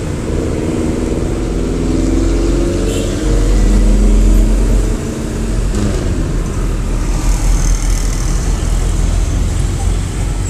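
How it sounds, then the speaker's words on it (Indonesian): Large trucks roar past on a road at night in Indonesia, a loud continuous rumble of heavy engines and tire noise that swells and recedes, with voices talking over it. "Truk-truk besar pada lewat."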